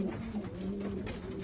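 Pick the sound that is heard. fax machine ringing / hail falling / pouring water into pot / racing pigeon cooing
racing pigeon cooing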